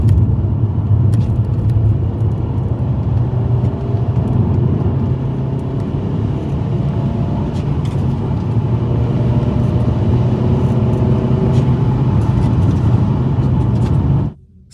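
Interior of an Alfa Romeo lapping the Llandow race circuit in Wales on a trackday, its engine a loud, steady droning roar with shifting pitch as it holds speed, alone and unbroken until it cuts off at the very end.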